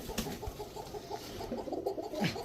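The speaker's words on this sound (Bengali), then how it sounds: "ককার ডাক শুনলেই খালি শান্তি লাগে রে।" Cooing from Giribaz high-flyer pigeons, a Rajshahi breed, kept at a pigeon farm: soft, repeated throaty coos that roll on steadily and fairly close, with no talking.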